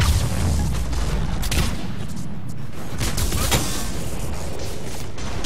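A grenade goes off during a Mass Effect 3 multiplayer firefight. Heavy booms and crackling gunfire run loud and dense from start to finish.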